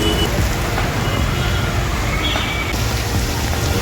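Heavy monsoon rain pours steadily around the Panvel ST bus depot, a dense unbroken hiss with faint traffic rumbling beneath it.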